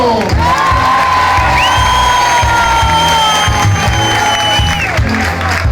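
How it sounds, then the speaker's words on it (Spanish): Audience at a Los Chichos show in Vigo's Sala Río roaring with applause and cheers, long drawn-out shouts and whistles held over continuous close, heavy clapping. "Otro aplauso fuerte para mi hermano Julio."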